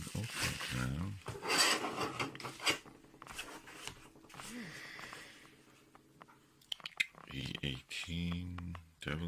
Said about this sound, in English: Let me use the knife to cut this.